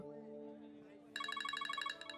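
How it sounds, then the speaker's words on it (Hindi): A telephone starts ringing partway through, a bright repeating electronic ring pattern that enters abruptly after a low, steady background tone and continues close and clear, with no talk during the rings. "टेलीफोन कॉल, मैं अभी आता हूँ।"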